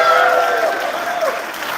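Theatre audience at a tribute concert applauds loudly and continuously, a dense close wash of clapping that eases slightly toward the end.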